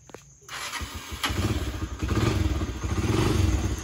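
A Honda TMX 125 motorcycle engine cranks and catches, rising into a rough, rumbling idle with clattering mechanical noise, close by.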